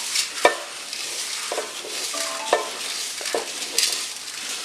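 Flattened rice (aval) roasting in a pan while being stirred, a dry rustling scrape with several distinct clacks of the spoon against the pan and a faint sizzle, close and uninterrupted by talk.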